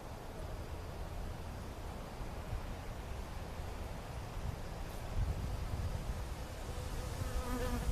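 Honey bees buzz around a beekeeper at a hive, a dense, steady, fairly faint hum of many insects outdoors with no talking.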